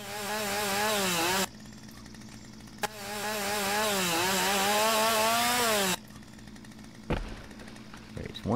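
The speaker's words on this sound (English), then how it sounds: "Nope, they want a chainsaw. That's the one." Chainsaw in the Lumberjack Simulator video game, revving loudly in two long sustained bursts with rising and falling engine pitch, separated by a brief lull, then idling low with a sharp clunk near the end; no talk over it.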